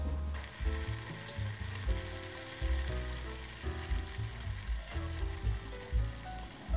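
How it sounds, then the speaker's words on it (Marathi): Rice flour ghavan roasts in a pan over a medium gas flame, giving a steady, close sizzle with faint scraping as it cooks, and no voices. "गॅसच्या मीडियम फ्लेम वरती आपण हे 2-2 मिनिटे भाजून घेणार आहोत"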